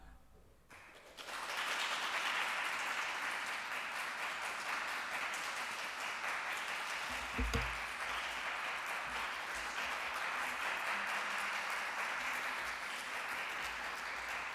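Church congregation applauding the pastor at a Sunday service, a dense, even wall of clapping that starts abruptly and holds steady for the whole stretch, fairly distant in a large room.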